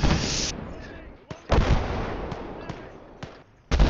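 Heavy .50 cal machine gun fire from the Gates of Hell game booms out in several loud bursts with short gaps, over ongoing battle noise.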